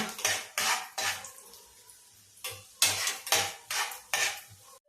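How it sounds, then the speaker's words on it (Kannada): A utensil scrapes and clinks rhythmically against a pan as cashews are stirred and roasted for dates sheera. The strokes are close and repeated in bursts with short pauses, with no talk. "ಗೋಲ್ಡನ್ ಬ್ರೌನ್ ಆಗೋ ತನಕ ಗೋಡಂಬಿಯನ್ನು ಹುರಿಯುವ."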